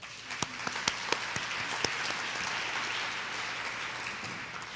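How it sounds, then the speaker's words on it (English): Applause from an audience at a social venture pitch competition, greeting the judges: dense steady clapping with a few sharp louder claps near the start, continuing evenly throughout. "Can we have a round of applause for our wonderful judges?"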